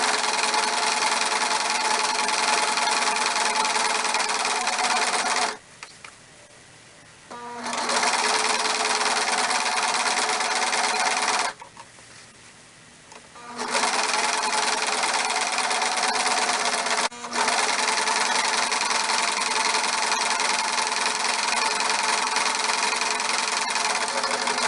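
Sewing machine stitching a nun's wimple collar, loud close whirring bursts broken by two short pauses, then resuming and running steadily to the end.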